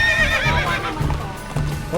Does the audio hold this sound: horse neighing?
yes